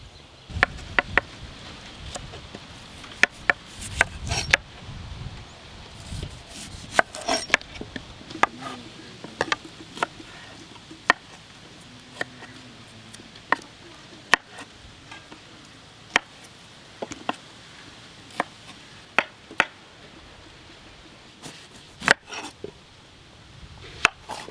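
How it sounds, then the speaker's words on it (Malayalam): Knife chopping capsicum and onion on a board for village-style tandoori chicken tikka kebabs, sharp irregular cuts in quick clusters and isolated strokes, close and crisp over quiet background. "കുറച്ച് ക്യാപ്സിക്കം അതുപോലെ തന്നെ ഉള്ളിയൊക്കെ കട്ട് ചെയ്യണം"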